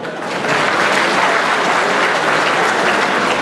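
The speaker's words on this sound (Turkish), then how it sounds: "Ali Şahinoğlu ve ekibine de ayrıca ben bir alkış istiyorum" Loud, sustained applause from a large crowd at an association reunion night in Bozüyük, dense and even clapping that fills the whole stretch without speech.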